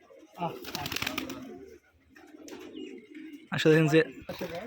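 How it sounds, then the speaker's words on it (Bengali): Machranga bazi pigeons at a farm coo in low, bubbling bursts while a person talks nearby, the calls and voice alternating at moderate loudness. "আসলে এখানে যে যতগুলো কবুতর দেখতেছেন সবগুলো কবুতরই প্রায় মাছরাঙা বাজির কবুতর"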